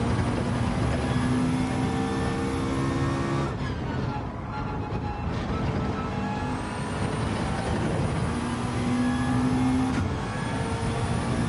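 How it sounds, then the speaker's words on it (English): A Gr.4 race car's engine revs hard in Gran Turismo 7. The engine roars loud and continuously, dips briefly midway, then climbs back to a sustained high-rpm drone. "He's revving his car too hard."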